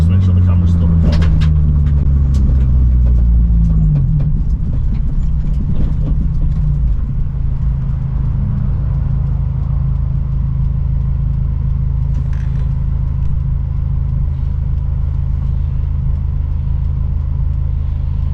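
A caged Honda Civic slows and pulls over at the roadside, its engine a deep, steady rumble whose pitch drops at the start before settling into a low idle-like drone under constant road noise.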